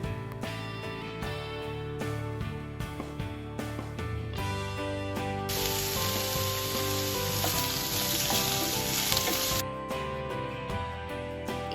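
Chopped pumpkin sautéing in a pan for a creamy pumpkin soup, giving a steady close sizzle that swells louder midway, over continuous background music.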